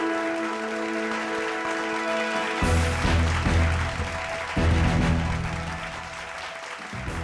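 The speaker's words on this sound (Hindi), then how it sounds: "जोरदार तालियां महेश राणा जी के लिए।" An audience at a celebration of top Indian carpenters bursts into loud, sustained applause for the announced east zone winner, clapping swelling and carrying on over background music.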